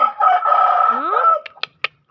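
A backyard Kanawayon or Ayam Ketawa rooster gives one loud, close crow lasting over a second. A few short, sharp clucks follow, then quiet.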